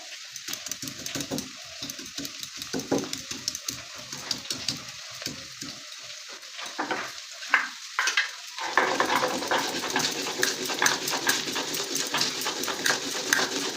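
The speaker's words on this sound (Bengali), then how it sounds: "এদিকে আমাদের আলুটা ভাজা হচ্ছে।" Potatoes fry in a pan, giving a continuous oily sizzle with stirring. The frying grows louder and denser partway through, and scattered knocks and clatter sound over the hiss.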